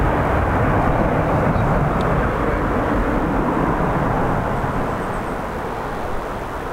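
A Qatar Airways Boeing 777 pushes back at Dublin Airport in high winds, a steady broad jet engine roar with heavy wind rumble, continuous and fairly loud throughout.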